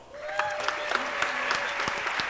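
An audience at a dance show claps steadily, a brief burst of applause with scattered sharper claps, while a faint voice or tone carries underneath.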